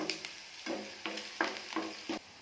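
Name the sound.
garam masala, ginger, onion and green chilies frying in hot oil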